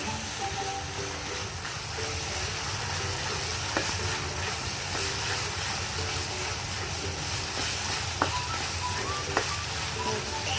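Tomato paste is stirred in a frying pan for mac and cheese, giving a low continuous sizzle with soft scraping and clinking as the spoon moves through it, at a moderate level.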